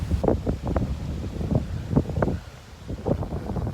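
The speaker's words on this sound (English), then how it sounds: "Got a beautiful sky out, but it's getting a little windy" Wind buffets the microphone in gusty rumbling bursts, steady throughout, with some rustling in the background.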